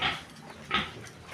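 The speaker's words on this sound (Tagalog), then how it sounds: "At panay na po din ang hingi ng aking baboy" A pig begging for food grunts twice, short nasal oinks close by, separated by a brief pause.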